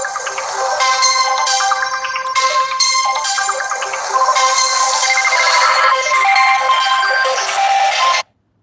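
A phone plays a loud, bright melodic ringtone that repeats steadily for about eight seconds and then cuts off sharply, heard alone with no talking.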